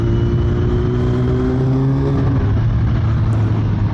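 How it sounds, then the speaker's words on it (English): A motorcycle engine revs loudly beneath a bridge, heard close up as a dense, constant roar with steady engine tones that shift pitch as the revs change. "give it a little rev under the bridge"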